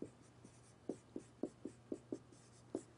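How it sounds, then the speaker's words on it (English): Pen or marker writing by hand while factoring a math expression, a series of short, distinct scratchy strokes at an irregular pace, close and quiet, with no talking. "I'm going to write this down here."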